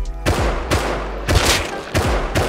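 Gunfire in the survival video game Rust: four sharp, loud shots spaced roughly half a second apart, each with a booming low tail, close and clear with no talk over them.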